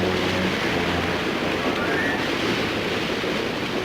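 Steady, loud rush of surf and waves, a continuous cartoon water effect with no breaks, washing along at an even level.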